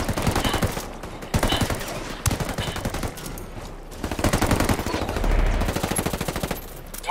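Heavy automatic gunfire from a video game, rapid bursts of dense rattling shots that carry on almost without a break, loud and close throughout.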